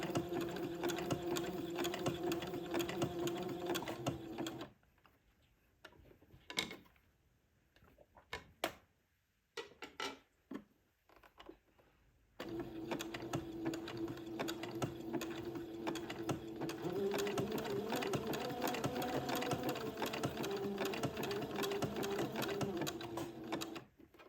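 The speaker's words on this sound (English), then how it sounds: "now I will zigzag a piece of entree to both sides of the insertion lace" A sewing machine zigzag-stitches insertion lace to entredeux for an old-fashioned baby layette. The close, fast whirring runs steadily, stops for a few seconds of light clicks, then starts up again.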